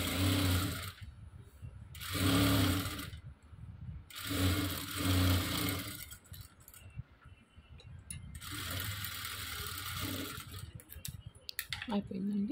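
A sewing machine stitches the lining of a baby frock, running in several bursts of a few seconds each with brief pauses between them, with a voice talking faintly in the background.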